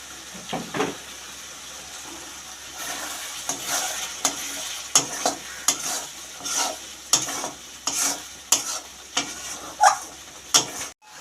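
Spice masala, with a little sugar added, being stirred and sizzled in a pan while frying for a jackfruit curry, with repeated scraping strokes over a steady sizzle, close and fairly loud with no talking.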